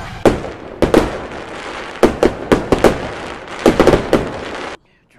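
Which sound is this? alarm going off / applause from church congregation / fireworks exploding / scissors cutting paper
fireworks exploding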